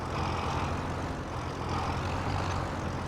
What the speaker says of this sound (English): Look at how the tractor just goes.